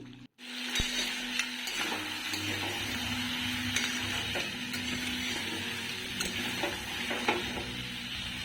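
Crab with capsicum being stirred and sautéed in a pan, a steady close sizzle with scraping spoon strokes throughout, no talking.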